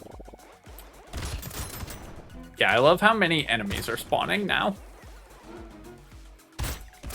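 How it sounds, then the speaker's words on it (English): Explosions in the video game Brotato burst in rapid, crackling clusters like a fusillade, loudest in a dense mid-clip barrage, while someone talks over the action. "More ways to create explosions seems pretty good to me."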